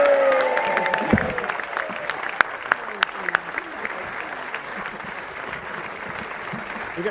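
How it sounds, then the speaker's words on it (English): A crowd at the Dunmow Flitch Trials applauds a married couple as they leave, loud sustained clapping with scattered sharp claps, following a brief voice at the start. "a round of applause for Mr. and Mrs. Rolls as they leave"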